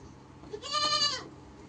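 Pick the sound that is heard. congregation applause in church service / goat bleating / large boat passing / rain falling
goat bleating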